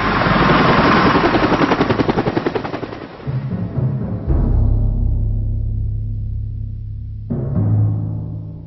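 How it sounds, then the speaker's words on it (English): Loud rapid chopping rotor thumps from British and American military helicopters in Helmand, Afghanistan dominate, fading into a steadier low engine drone, with a renewed burst of rotor noise near the end. "British and American helicopters are used to carry the assault in."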